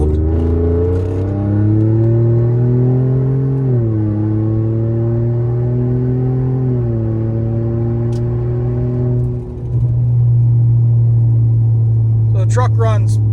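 A Ford EcoBoost F150 pickup pulls hard on a highway, its engine droning loud and steady as the pitch climbs through the gears, with a brief dip before it surges again.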